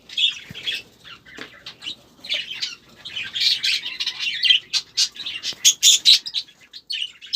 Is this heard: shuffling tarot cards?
no